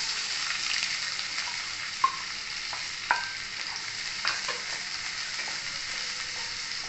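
Onions and cumin frying in oil for egg bhurji, a steady close sizzle with a few sharp spatula taps and stirring scrapes, moderately loud and continuous.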